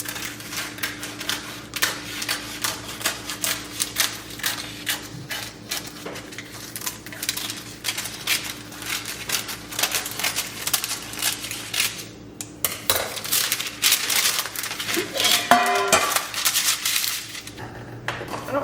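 A knife cuts through baked pumpkin dessert in a metal pan, giving a fast run of close scraping taps and clinks against the pan, with a brief pause and then louder scraping toward the end.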